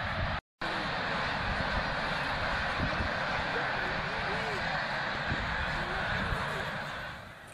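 Geese land in large numbers near a small beach in Quebec, their honks rising over a dense, steady wash of flock noise and wind, with a brief dropout near the start.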